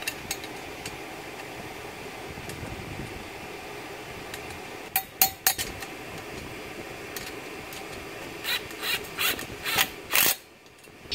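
A power drill whirs in short bursts near the end, biting into metal sheet for an electric scooter chassis, with rattling, grinding noise over a steady mechanical hum.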